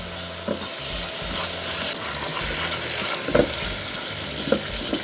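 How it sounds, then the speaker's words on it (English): Margarine being stirred into hot amber caramel for ginger tea, giving a steady sizzle with soft scraping strokes and a few sharper clinks, close and continuous with no voices. "After adding margarine, make sure you stir so that it mixes."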